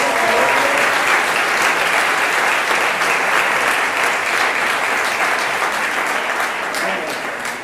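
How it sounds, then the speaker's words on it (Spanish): A congregation at a ministers' conference in Cuba applauding, dense sustained clapping from a large crowd, loud and steady throughout and tapering slightly near the end. "Podemos darle un aplauso al Señor"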